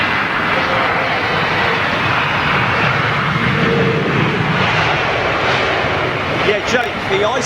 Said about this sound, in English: the Iceland Air 757. Still taxiing.